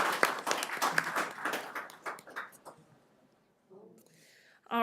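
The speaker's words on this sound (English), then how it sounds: "Let's give them a round of applause anyways." A brief round of scattered clapping rises at a city council meeting and tapers off within a few seconds, followed by quiet and then a person speaking.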